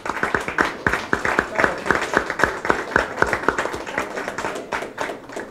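Rhythmic applause from an audience at a state governor's press conference in Chilpancingo, Mexico, a few people clapping in a steady, fairly close beat for several seconds.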